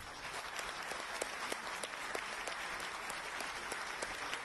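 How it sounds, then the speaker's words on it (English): Audience at a technology summit in New Delhi gives dignitaries sustained applause, a steady even patter of many hands clapping throughout, moderately distant. "Please thank the dignitaries with a warm applause."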